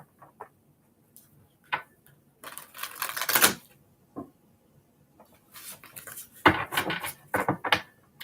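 A tarot card deck being shuffled, with crisp rapid riffling bursts of several seconds separated by soft taps and quiet pauses, close and without speech.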